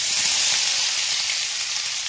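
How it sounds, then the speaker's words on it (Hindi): Chopped onions and asafoetida sizzle in hot oil for jackfruit curry, a loud, steady, close frying hiss with no voices. "इसी टाइम डाल देंगे इसमें हम हींग। और ये कटे हुए प्याज,"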